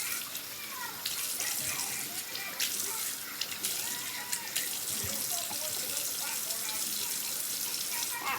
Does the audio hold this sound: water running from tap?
yes